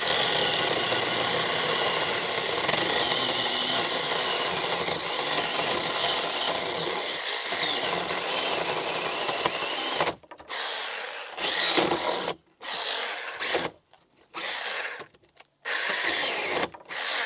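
A Chinese battery chainsaw with an old, worn chain cuts through a dry wooden beam, its steady buzzing whine running loud and continuous, then breaking into short bursts with brief pauses near the end.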